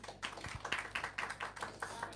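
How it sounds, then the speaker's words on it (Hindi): A church audience claps hands in a quick, uneven run of sharp claps, fairly close and moderately quiet, with no talking. "ये जो आपने ताली बजाई है ना, ये चपाती बन रहा है।"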